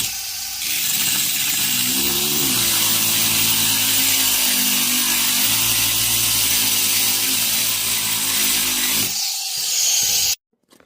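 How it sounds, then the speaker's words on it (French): A rotary tool fitted with a small cutting disc saws through gauge 1 (1/32 scale) model train rails, producing a steady, loud, close grinding whine for about nine seconds before it cuts off. "l'outil adéquat pour pouvoir couper les rails. Un petit disque métal, plastique, ça fait tout."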